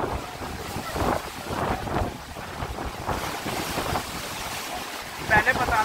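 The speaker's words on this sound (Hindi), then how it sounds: "देखो लहरें" Waves roll on the Chambal river with a continuous rushing wash of water, heavily buffeted by wind noise on the microphone, loud and close, with a faint voice in the mix.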